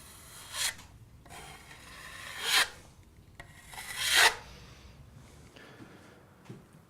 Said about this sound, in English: There are only 2 stages left, and the first of those is to sand it smooth